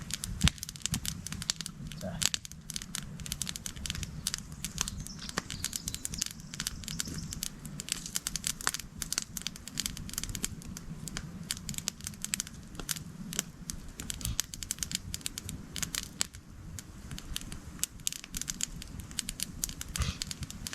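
A campfire crackles and pops in fits, irregular snaps scattered over a soft background, quiet and close.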